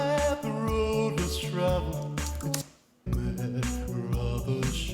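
A polished synth pop track with steady beat, layered synth chords and bright lead lines, briefly dropping out near the middle before resuming at full level.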